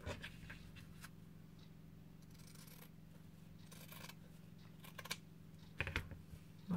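Scissors snip through paper while an ATC card is being made, giving a series of short, crisp cuts, some quick and some spread apart, faint and close over a quiet hum with no talking.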